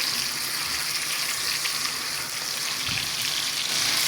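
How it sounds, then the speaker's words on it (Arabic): Chicken pieces and carrots fry in a pan, a steady, loud, close sizzle with crackling oil throughout and no talking. "هاي كي حتى الزروديه راهي بدات تتقلى"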